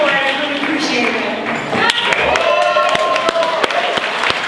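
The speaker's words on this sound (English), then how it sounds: "How about a big round of applause one more time, the beautiful Miss Irene Cruz." Audience at an awards ceremony bursting into applause, clapping rising and filling the room under a speaker's voice.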